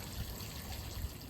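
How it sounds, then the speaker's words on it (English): Water drains out of a backyard pool waterfall feature in a steady, close trickling flow, brief and unbroken, with no voices. "I can dump water real quick out of that"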